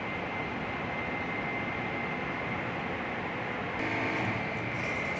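A ship's number 2 refrigeration compressor for the meat chamber hums in a steady, dense mechanical drone, with a slight shift in tone a few seconds in as it settles into running.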